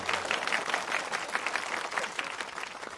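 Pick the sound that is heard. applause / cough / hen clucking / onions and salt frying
applause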